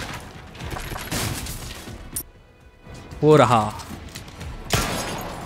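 Gunfire in the survival horror game Resident Evil 4 Remake comes as several loud, sharp bursts spread across the stretch, mixed with game noise, while someone speaks briefly in Hindi.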